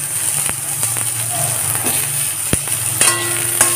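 Dried red chillies and pieces of hog plum frying in a pan over a low gas flame for amra chutney, a soft continuous sizzle with occasional clinks and scrapes of stirring.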